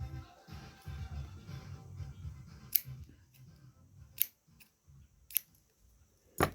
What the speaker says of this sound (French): Et puis après, on coupe le fil.